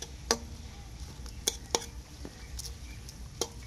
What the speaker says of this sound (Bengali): এটাকে ভালো করে ভেজে নেবো যাতে তেলের মধ্যেই গাজরটা সিদ্ধ হয়ে যায়